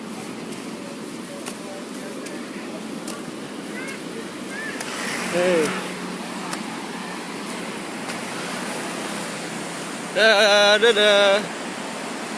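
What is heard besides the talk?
waves at Buruluk beach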